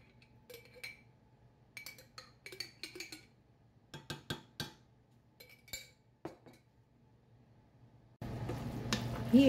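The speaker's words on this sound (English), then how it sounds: "stirring all this together, mixing all the ingredients together" A spoon clinks and scrapes against a cooking pot while tuna and bowtie pasta are stirred in Alfredo sauce. The sharp taps come in irregular clusters, and a steady hiss from the stove rises near the end.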